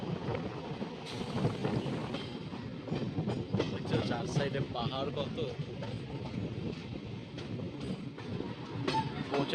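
A train at Dilwa railway station rumbles and clatters steadily nearby, with wind buffeting the microphone and a voice talking over it.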